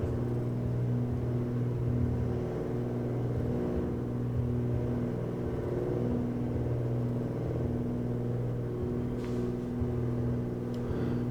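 Steady, droning twin-engine rumble of a Cessna 310R in Microsoft Flight Simulator, holding a constant deep hum and whir at even loudness throughout with no talk.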